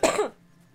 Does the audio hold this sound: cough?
yes